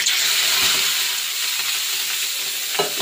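Salted, drained bitter gourd drops into hot oil with black cumin and turmeric, setting off a loud, steady sizzle and hiss of frying that continues close up with brief stirring scrapes.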